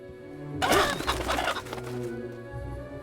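A chicken in the Fable Anniversary video game gives a sudden burst of loud, flustered clucking and squawking that fades over about a second and a half.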